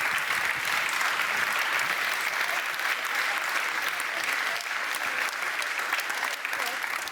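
An audience at an Oxford-style debate on Asia's rise breaks into sustained, dense applause, a steady wash of many hands clapping at even loudness throughout.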